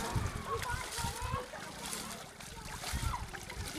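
Water splashes and sloshes onto a Yamaha R15M motorcycle being washed in the Ganges river, coming in irregular close splatters mixed with flowing water while a voice talks over it.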